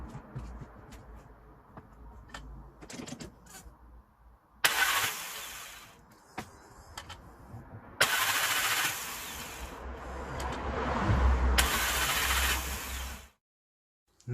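Swapped engine in a VW Polo cranking: a faint clicking lead-in, then three loud, close starter bursts of a few seconds each, the last one longest and with a strengthening low rumble, before cutting to silence.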